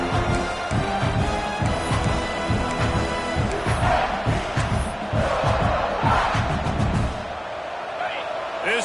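A football stadium crowd roars loudly and continuously on second down as the defense tries to hold, while a commentator talks over the din.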